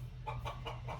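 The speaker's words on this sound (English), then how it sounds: "if you are working in an environment where there are chickens clucking around" Chickens clucking as background noise in an open office setting, a series of about four soft clucks in steady rhythm over a low constant hum, fairly faint and with no talking.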